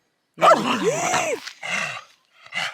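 A roughly seven-month-old dog barks and yips nearby outdoors in several loud, close bursts with pauses between them. A growling edge runs through the first bark.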